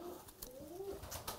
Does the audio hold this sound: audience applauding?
no